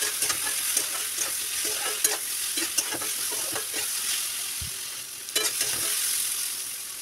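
Fish tossed with salt and turmeric in a hot frying pan, a steady bright sizzle broken by repeated scraping stir strokes and occasional utensil knocks, close up with no talking.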